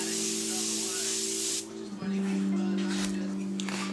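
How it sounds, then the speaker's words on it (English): Morphe Continuous Prep Setting Mist sprayed onto a face, a steady loud close hiss lasting about a second and a half, then cutting off, with a low hum underneath and quieter rustling after. "I seal it with this Morphe Continuous Prep Setting Mist."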